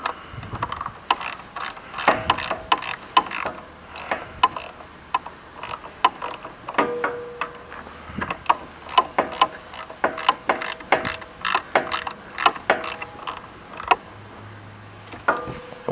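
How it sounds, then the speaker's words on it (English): Bolt being tightened with a ratcheting wrench on the diverting arm of a DynaCon conveyor, a close, steady series of sharp clicks in rapid irregular bursts, with no talking. "you need to tighten that bolt back up."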